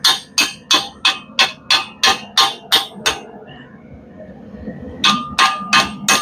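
Hot steel chain hook struck on an anvil, a steady run of about eight sharp ringing hammer blows, a short pause with faint background noise, then four more blows, loud and close.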